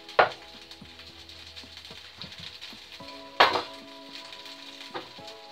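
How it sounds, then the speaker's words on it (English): Oil frying in a pan during frugal wartime-style home cooking gives a faint, steady sizzle, punctuated by a few sharp clatters of utensils against the pan, with soft music in the background. "So put a bit of oil into the pan there."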